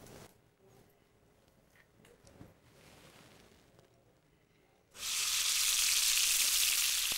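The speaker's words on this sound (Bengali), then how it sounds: "লুচি চার কড়াইতে।" Luchi frying in hot oil in a kadai: a quiet room with faint shuffling gives way to a loud, steady sizzle that bursts in partway through and holds to the end.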